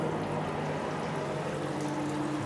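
Excess water streams and pours steadily out of a laser's cooling water supply, a continuous close splashing flow with no voices.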